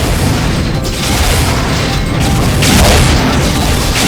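Grenade explosions in Unreal multiplayer, a dense run of loud booms and crashes overlapping with no pause between them.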